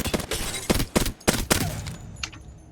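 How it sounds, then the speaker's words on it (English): Short bursts of gunfire from a first-person shooter such as Overwatch or Apex Legends, roughly five clustered volleys fired at a steady rhythm, loud and close, with a fainter tail and a light ring at the end. "If you're aiming down sights from a distance like this, it's helpful to burst fire"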